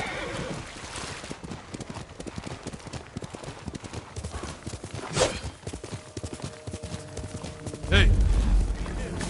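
Horse hooves clip-clopping in Ghost of Tsushima, a steady rhythmic trot of game hoofbeats with a neigh, a voice speaking over it, and a louder burst near the end.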